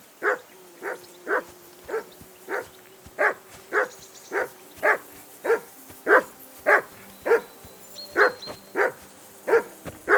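A dog in the medieval game Kingdom Come: Deliverance II barks at Henry in a steady run of about sixteen evenly spaced, fairly close barks over ten seconds.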